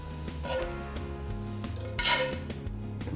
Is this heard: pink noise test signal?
no